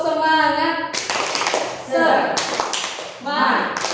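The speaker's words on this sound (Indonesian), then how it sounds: "ayo kita tepuk semangat terlebih dahulu" A group of women performs a rhythmic spirit-clapping routine, bursts of brisk hand claps alternating with loud chanted voices in short rounds, close and lively.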